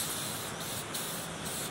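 Primer is sprayed onto the gas tank of a 1986 Sea Ray boat during restoration, a steady, close, unbroken hiss of spray lasting the whole stretch with no talk.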